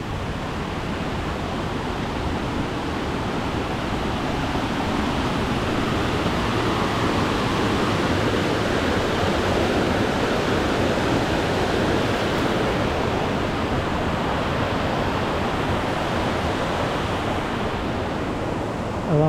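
Heavy rain pours without pause along the Sri Pada pilgrimage trail, a dense, steady roar of falling water that stays loud and close the whole time, with no voices.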